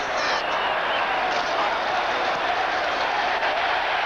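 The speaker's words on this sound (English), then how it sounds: "Roaring crowd" A roaring stadium crowd at a 1992 Monday Night Football game between the Eagles and Dallas, a steady, dense wall of cheering and noise that holds loud and unbroken throughout.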